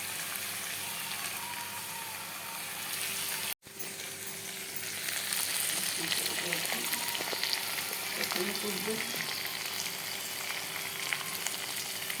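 Mutton kosha sautéing in a pan, a continuous loud sizzle and crackle that briefly cuts out, then resumes with soft stirring clatter and faint background voices.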